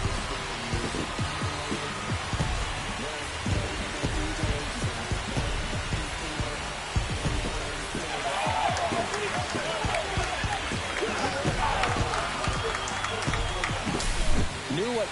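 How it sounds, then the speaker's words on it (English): A stadium crowd roars after a home run in the baseball game MLB The Show 25, a broad, steady wash of cheering and applause sustained across the whole stretch, with thumping music underneath and a rising swell toward the end. "This crowd is on fire right now. They're going nuts thanks to that home run."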